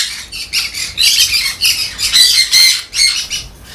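Two well-grown yellow-sided conure chicks squawk in harsh, raspy bursts, close and loud, repeating in quick uneven pulses with short gaps and no talk.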